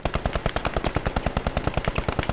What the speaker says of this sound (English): I was trying to quick shoot him